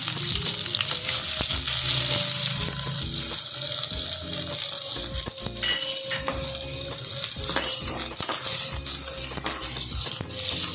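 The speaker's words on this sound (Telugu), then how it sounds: "ఆయిల్ కొంచెం వేడవగానే మనం ఫ్రైడ్ ఆనియన్స్ ప్రిపేర్ చేసేసుకుందాం." Sliced onions frying in hot oil inside a pressure cooker, a steady dense sizzle running the whole time with scattered crackles and spits up close, no voices.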